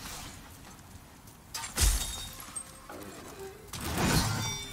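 Glass shatters in the video game Demon's Souls on PS5, with two sharp, bright crashes a couple of seconds apart over quiet ambient game background.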